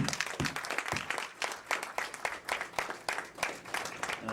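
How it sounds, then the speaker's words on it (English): A small crowd claps steadily for a few seconds, moderately loud and fairly even, with scattered individual hand claps audible. "give yourselves a round of applause for coming back"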